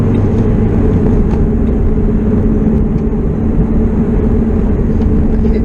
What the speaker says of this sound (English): I just went to downshift with my right hand, missed the moment